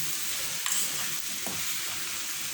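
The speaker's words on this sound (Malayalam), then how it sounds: "പിങ്ക് സോൾട്ട്, ലൈം ജ്യൂസ്, അതുപോലെ നമ്മുടെ പെപ്പർ, ഇതെല്ലാം കൂടെ ചേർത്ത് കൊടുത്ത് നന്നായിട്ട് മിക്സ് ചെയ്യുക" Paneer mushroom salad with salt, lime and pepper stirred in a pan, a soft continuous sizzle and light scraping, close and steady with no talking.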